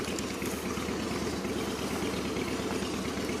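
An engine runs steadily, a loud continuous low rumble with a rough, pulsing texture and no break in level from start to finish.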